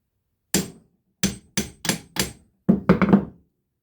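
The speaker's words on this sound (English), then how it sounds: "Now, I just got to take this one and hammer it back down a little bit." A small hammer strikes a drive shaft part in eight crisp metallic blows, spaced irregularly with a quick cluster near the end, close and loud with no talking.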